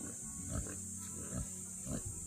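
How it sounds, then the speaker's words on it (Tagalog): Native pigs grunting in short low bursts, three distinct grunts spaced about a second apart, close by with a steady hiss in the background. "Ayan po mga Repa Pits, ang mga native pig."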